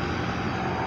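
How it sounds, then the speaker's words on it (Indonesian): A car engine fitted with a swoosh-style aftermarket exhaust drones loudly at a roadside bend in Cidolog, a steady, rough, continuous roar that holds at the same level for the whole moment. "Nih, suara mobil apa nih yang knalpotnya ini?"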